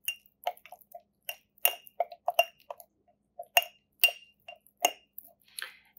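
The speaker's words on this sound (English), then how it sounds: "we need to stir well, and we need to make sure all of the flour is wetted down" Spoon stirring flour and water into a sourdough starter in a glass jar, giving bright irregular clinks and taps against the glass, close and distinct, spaced by short pauses, with no voices.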